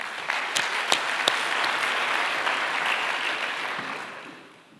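Audience at the 2012 APSAD Conference applauding to welcome a keynote speaker, steady crowd clapping for several seconds with a few sharp close claps on top, fading out toward the end.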